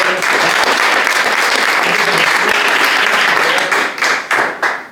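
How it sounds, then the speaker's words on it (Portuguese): Loud, dense applause from a large church congregation, sustained and steady before thinning into scattered claps near the end. "Aplauda Jesus"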